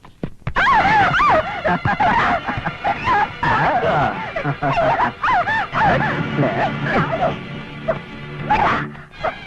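A dog in a Tamil comedy scene barks and whines in loud, excited bursts, tangled with shouting voices and clattering commotion throughout.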